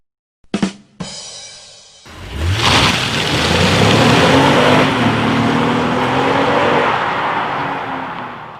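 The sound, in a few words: Honda Passport SUV accelerating onto the highway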